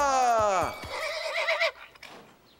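A horse in an animated children's cowboy scene lets out a loud, close whinny that falls in pitch, followed by a few softer snorts and hoof clip-clops trailing away.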